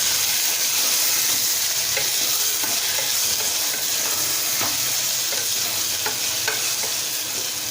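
Dal of washed toor and moong lentils is stirred into a hot pan with mixed vegetables, giving a continuous loud sizzle with scattered scraping clicks from the spoon.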